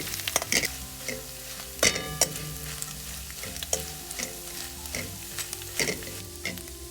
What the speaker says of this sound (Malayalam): കരിഞ്ഞു പോകാതെ 2-3 മിനിറ്റ് ഒന്ന് വറുത്തെടുത്താൽ മതി.